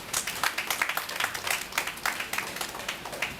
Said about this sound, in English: But while you are clapping,